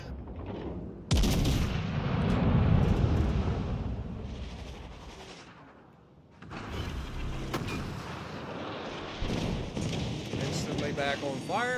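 Naval artillery booms in the World of Warships Legends video game. Loud, heavy gunfire blasts with long rumbling tails come in separate salvos, and a voice talks over the battle noise.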